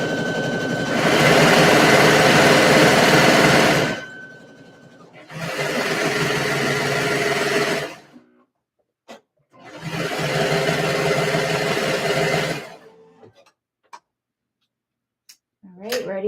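A serger sewing machine runs in three loud, close bursts of steady whirring several seconds long, separated by short pauses, with a few faint clicks at the end.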